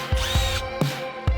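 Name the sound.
power drill drilling holes in panel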